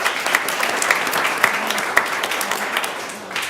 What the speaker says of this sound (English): So we'll clap for him.